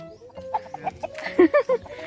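Chickens cluck close by on a farm field in a quick string of short, separate clucks that grow louder toward the end, over a soft background.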